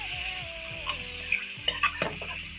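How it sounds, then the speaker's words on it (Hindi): Chicken fries in ghee in a karahi over medium heat, a low sizzle with rhythmic stirring scrapes and a few metallic clinks of the spoon against the pan. "तो तकरीबन 10 से 12 मिनट हम इस चिकन को इसी घी में फ्राई करेंगे दरमियानी आंच पे"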